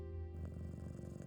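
A cat purrs softly and continuously in the video game Best Served Cold, a low, rumbling hum faint under quiet ambient game sound.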